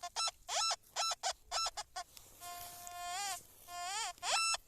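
A high electronic warbling tone from a metal detector rises and bends in bursts, heard twice, with short clipped chirping pulses before and after, close and fairly loud.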